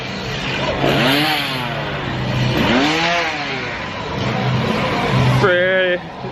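Chainsaws rev and whine in rising and falling bursts amid a noisy crowd in a Halloween scare zone at Thorpe Park, loud and close, with voices talking over them.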